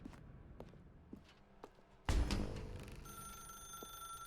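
A telephone starts ringing loudly inside an office building in The Stanley Parable video game, its bell sustained after a few soft footsteps.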